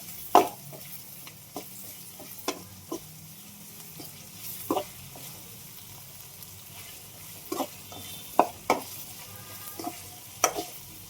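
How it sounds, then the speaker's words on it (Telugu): Onions frying in a pan with ginger-garlic paste, a soft continuous sizzle broken by scattered scrapes and taps of a spatula stirring, close and fairly quiet with no voices. "ఆనియన్స్ అయితే బాగా వేగినాయండి."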